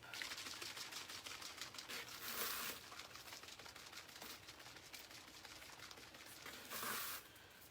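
Rapid rattling and sloshing from a shaken spray bottle of water and paint, steady and fairly close, with two brief louder bursts of hissing rattle.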